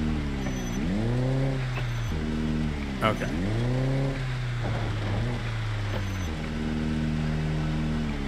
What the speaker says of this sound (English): back the car up.